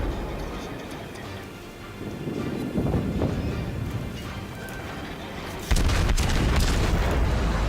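A Königsberg cruiser in World of Warships fires high explosive shells, heavy booming gunfire reports over a constant rumbling game background, with a louder salvo near the end.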